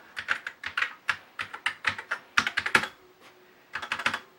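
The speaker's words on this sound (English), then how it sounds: "I'm going to type a command that should access the disk drive" Keys clacking on a Commodore SX-64 portable computer's keyboard as a command is typed, a near, irregular run of sharp taps in bursts with a brief pause before a final flurry.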